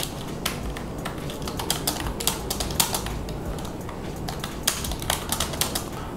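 Rapid typing on a keyboard paired with a Mi Pad 5 tablet, a dense run of sharp plastic key clicks at a steady fast pace, close up, with no voices over it.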